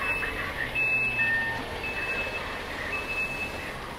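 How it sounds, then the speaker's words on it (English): A bin lorry reversing on a busy Blackpool street gives off repeated high electronic beeps in a steady rhythm, moderately distant over low traffic rumble and street ambience. "let's make sure we don't get knocked down by a bin lorry"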